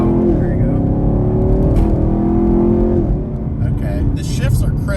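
A 2022 Chevrolet Camaro SS 1LE with an automatic gearbox, driven using its paddle shifters in manual mode, roars loudly and continuously from inside the cabin, with audible shifts interrupting the engine note while people talk over it.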